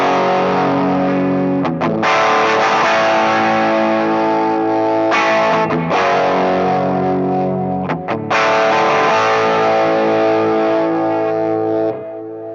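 Electric guitar played through two Marshall amplifiers with ambient effects, heavily distorted sustained chords ringing loud and continuous, with brief gaps where chords change and a wash of effected tail throughout.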